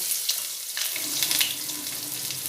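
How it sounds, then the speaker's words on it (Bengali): Chopped onion hits hot oil tempered with whole cumin for aloo motor ghugni, giving a steady, close broadband sizzle with a slight surge partway through, no voices. "ফোড়নটা হয়ে গেছে, এবার ওতে দিয়ে দেবো সামান্য পেঁয়াজ কুচি"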